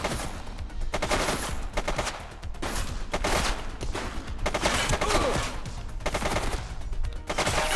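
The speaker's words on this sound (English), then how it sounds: "Shots fired!" Sustained gunfire in the police game The Precinct, repeated loud bursts of rapid shots and automatic fire rattling on and off for several seconds with little pause.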